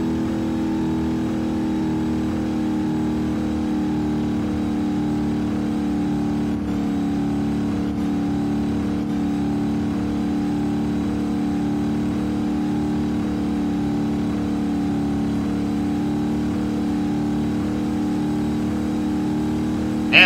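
Slow truck engine in BeamNG drones steadily with a constant low hum and harmonic tone, a continuous unchanging mechanical chug without talk.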